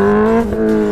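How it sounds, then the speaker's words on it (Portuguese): A motorcycle engine with a sticking clutch revs in a close, loud, steady buzzing drone that sags briefly mid-way and then holds again. "Minha moto tá arrancando estranho."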